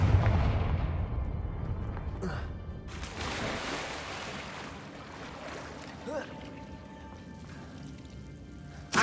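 Confringo fire spell in Hogwarts Legacy bursting with a deep booming blast that decays into a long rumbling tail, followed by a faint thump near the end.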